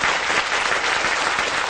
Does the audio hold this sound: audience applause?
yes